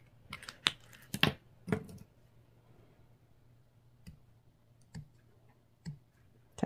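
Scissors cut through plastic canvas for a heart keyring, making crisp close snips: a quick cluster of several cuts at first, then single cuts spaced out in a quiet room.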